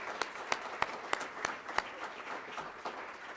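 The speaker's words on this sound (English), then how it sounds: "So if we could give city staff a round of applause," Applause at a city public works and safety board meeting, with a few sharp, distinct hand claps standing out over a softer, thinner spread of clapping from a small audience.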